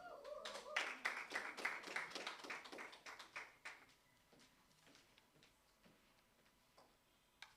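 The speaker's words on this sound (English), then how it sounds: "Round of applause for Shaunalyn" Applause rises from the audience at a 2022 apprenticeship programme graduation ceremony. A few seconds of fairly faint, uneven clapping thins out into scattered claps.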